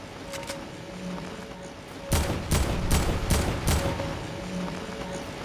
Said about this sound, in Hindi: किसी ने गोली चलाई या फिर की हुआ है